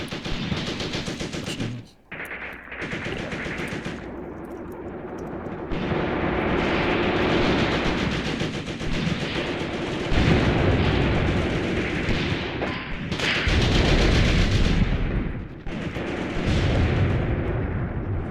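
Gunfire and artillery in a Tunisia 1943 tank warfare game, with a dense, rumbling barrage of blasts and shots that swells and surges for the whole stretch, loud and continuous.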